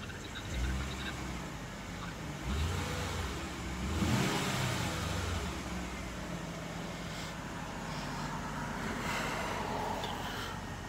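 A Mercedes car drives and accelerates, its engine surging in a few revving swells over a steady road rumble, heard from inside the cabin, with no talk.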